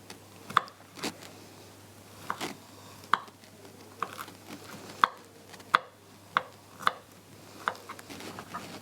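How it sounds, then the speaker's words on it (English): A knife finely chopping garlic on a board for king prawn lettuce wraps, with about a dozen sharp, separate taps at an uneven, unhurried pace, close and alone. "I've got garlic here as well, just going to chop it really finely."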